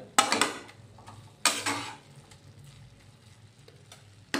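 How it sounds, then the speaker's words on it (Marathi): Carrot halwa with reduced milk stirred in a pan, two distinct scraping, clinking spoon strokes against the metal over a faint simmer, close and otherwise quiet. "एकदा आपण याला हलवून घेऊया"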